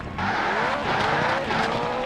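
WRC rally car in a PS2 World Rally Championship game stalling on the start line, a steady engine drone with a falling pitch sweep, close and loud, no talk.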